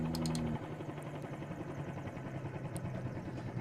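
A Bell 47G helicopter in a flight simulator game, its steady engine and rotor drone carrying continuously, with a brief louder hum at the start.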